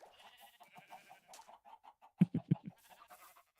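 Minecraft chicken near a nest gives a quick run of four low clucking calls, clear and close, after softer scattered in-game sounds with no talk.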